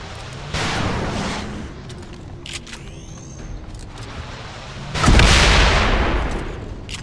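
Rapid gunfire rings out in the XCOM 2 video game with the Long War mod, two loud bursts of booming shots about four seconds apart, with faint mechanical clicks and tones between them.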